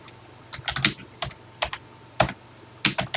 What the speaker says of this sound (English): Okay, let's get busy typing here.